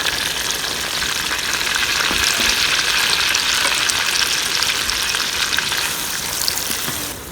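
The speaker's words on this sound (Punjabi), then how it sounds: "ਪਿਆਜ਼ਾਂ ਨੂੰ ਫਰਾਈ ਕਰਾਂਗੇ ਇੰਨਾ ਕਿ ਇਹਦਾਂ 'ਚ ਕੱਚਾਪਨ ਜਿਹੜਾ ਖਤਮ ਹੋ ਜਾਏ।" Chopped onions frying in cooking oil, a loud, continuous close sizzle with crackling and occasional stirring scrapes, steady throughout and easing slightly at the end, with no voices.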